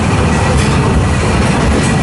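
The Walt Disney World Railroad train at Magic Kingdom rolls into Frontierland Station with a steady, loud, close rumble of wheels and carriages, with no voices over it.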